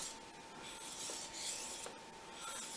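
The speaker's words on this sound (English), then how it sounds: "going to start at a nice low angle, polish that bevel up, get the coarser scratches out." A Fujimoto honesuki knife is drawn across a Japanese waterstone at a low angle, giving a soft, steady scraping rasp with gentle rhythmic strokes, close up and fairly quiet, with no talking.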